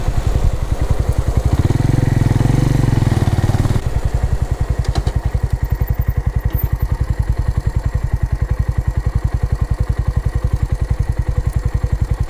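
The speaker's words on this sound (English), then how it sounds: "So you ease up on the throttle and then you stall the engine." A motorcycle engine rumbles close by, surges in a louder burst of throttle, then settles into a steady, rapid clattering idle-like chug that continues evenly to the end.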